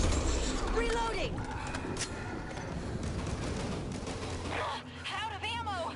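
Gunfire and mechanical weapon clatter in the zombie shooter Back 4 Blood on PS5, a dense busy stream of shots and clanks under in-game character voices and shouting.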